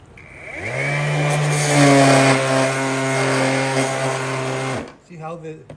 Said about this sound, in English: so we're set up to start our sanding